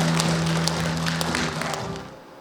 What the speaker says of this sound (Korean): 따뜻한 박수로 환영해 주시기 바라겠습니다